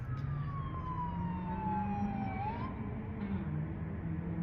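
An LAPD police car siren sounds at a moderate distance while the car arrives at a downtown Los Angeles hotel, one long descending wail followed by a quick rise, over low traffic rumble.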